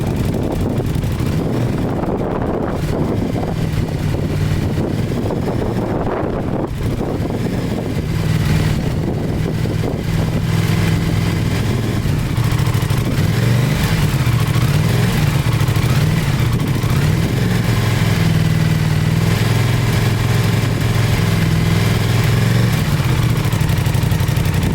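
An Aprilia RS660 motorcycle fitted with an IXRACE exhaust and baffle, held at steady revs for a decibel test, producing a constant loud engine drone with heavy wind buffeting on the microphone.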